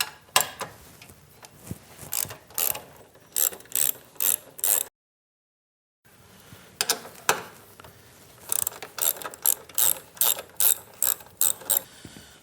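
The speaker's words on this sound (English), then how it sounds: "So next we need to take our 2 1/2-inch screws out back here before we move to the front and take the tank off." A ratchet wrench backing out 1/2-inch screws on a Harley-Davidson touring bike gas tank, with close, rhythmic bursts of clicks, a short silent gap, then faster runs of ratcheting.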